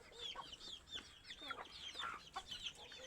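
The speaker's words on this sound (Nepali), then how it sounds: "यो कुखुराको खोर हो नि त कुखुरा पनि धेरै छ" Chickens cluck and squawk in a crowded coop, many overlapping calls close by in a busy, continuous chorus.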